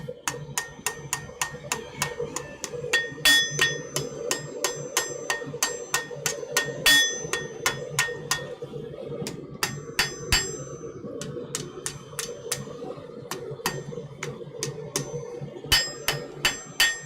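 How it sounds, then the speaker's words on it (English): Sharp, ringing hammer blows on hot metal over the anvil edge in a smithy, struck in irregular bursts above a low background hum and faint voices. "he then goes and gives it a couple of whacks over the edge to establish the shoulder"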